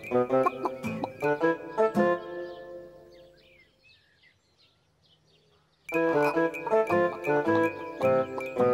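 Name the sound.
cartoon chickens clucking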